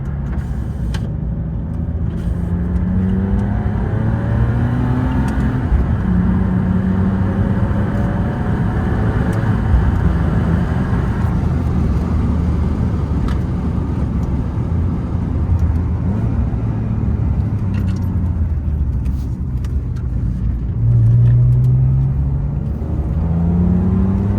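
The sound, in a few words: BMW 330ci E46 with SMG 6 gearbox shifting gears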